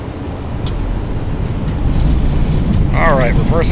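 Thrust reversers deploy on a Boeing 737 landing in X-Plane 11: a loud, broad engine roar swells and holds steady, and a brief voice cuts in near the end.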